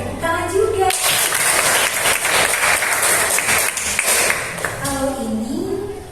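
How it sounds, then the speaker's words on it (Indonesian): Students in an Indonesian classroom burst into loud, dense applause for about four seconds, with a teacher's voice heard briefly before and after the clapping. "Oke, tepuk tangan juga."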